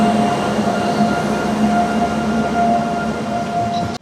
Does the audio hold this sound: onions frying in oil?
no